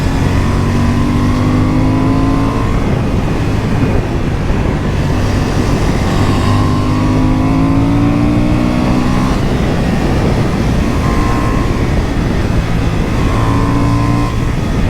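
Loud, steady rush from a 2023 Honda Hornet 750 carrying two riders, its engine note climbing repeatedly through gear changes beneath heavy wind noise, recorded close from the moving bike.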